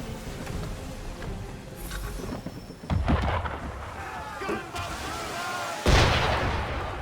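Cannon and gunfire from an enemy ship in Assassin's Creed 3 at sea, heavy booming shots at irregular intervals, with the loudest blasts near the middle and end over a rumbling background.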